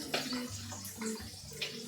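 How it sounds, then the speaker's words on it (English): Running tap water splashes over hands at a kitchen sink in short uneven bursts, fairly close, with a low hum underneath and no talking. "Wash my hands there."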